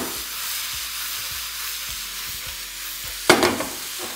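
Garlic and other ingredients being stirred in a hot frying pan, making a continuous close sizzle with light rhythmic scraping, then a louder burst of sizzle near the end.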